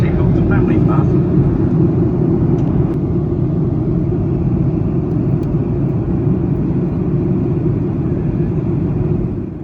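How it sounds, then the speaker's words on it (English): A Qantas airliner cabin descending into Melbourne fills with a loud, steady low engine and air roar that runs the whole time, while a voice talks over it. "As we descend into Melbourne with some cool looking clouds about"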